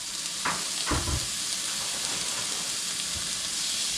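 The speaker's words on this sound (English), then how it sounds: "we are going to sear up our pineapple rings" Pineapple rings sear in a hot pan, giving a constant loud sizzle and hiss with a few brief clatters near the start.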